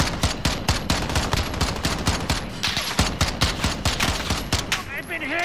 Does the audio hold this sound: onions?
no